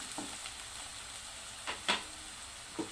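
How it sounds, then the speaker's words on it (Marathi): Chopped onion frying in a pan, a faint steady sizzle with a few soft stirring scrapes and taps. "तर आता कांदा टाकते मी। त्याला परतून घ्यायचंय"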